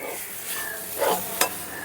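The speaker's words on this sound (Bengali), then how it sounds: "কচু শাকটাকে খুব সুন্দর করে ভেজে নিয়েছি একটু আর জল নেই" Taro leaves with garlic are stir-fried dry in a pan, giving a close, soft sizzle broken by two sharp scraping stirs of the spatula.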